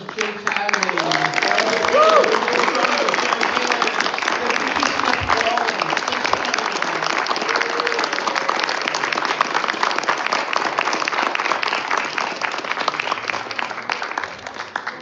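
An audience at a film music celebration applauds a composer: loud, continuous clapping with crowd chatter and a few cheers and voices mixed in, holding steady for the whole stretch.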